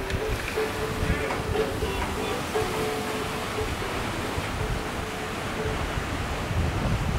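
Steady wash of ocean surf on the private beach of a Deluxe Beach Villa in the Maldives, a continuous broadband rush with wind buffeting the microphone throughout.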